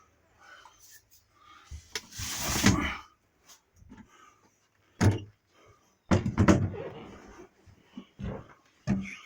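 A door without a latch is moved open and shut, giving several close, short bursts of wooden rubbing, knocks and thumps separated by quiet gaps.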